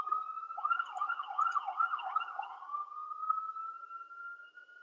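Emergency vehicle siren wailing on a New York City street, a rising and falling warble that settles into a steady tone, heard from a distance and fairly faint, with no talking.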